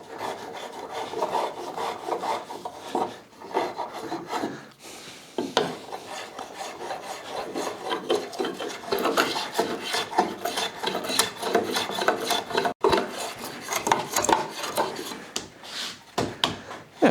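Wooden handle edges and corners rasped and filed round to remove splinters, a steady scraping rasp in repeated strokes, close and continuous with brief pauses.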